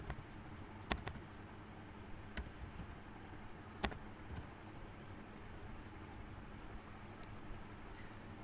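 Faint typing on a computer keyboard while entering XML code, with a few sharper isolated key clicks spaced irregularly over a steady low background hum and no talking.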